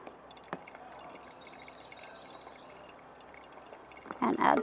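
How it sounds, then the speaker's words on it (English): Water being poured into a cup of coffee, a soft steady pour running for a few seconds in a quiet room, followed by a louder burst of splashing near the end. "and add some more water."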